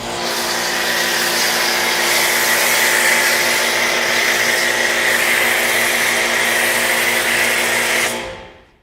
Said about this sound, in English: So this is hooked up to our pressure washer.